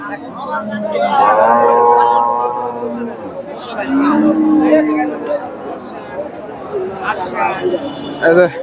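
Deep, drawn-out moos from Friesian cows rise over nearby chatter and crowd noise at a livestock market in Bogura, Bangladesh.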